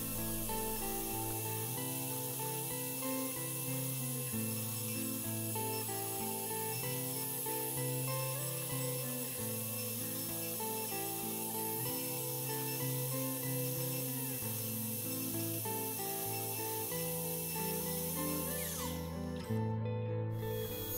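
A CNC machine engraves a custom design into a wooden cutting board, giving a steady, loud mechanical whine with shifting pitched tones as the bit moves, continuous for about twenty seconds before cutting off near the end, with no talking.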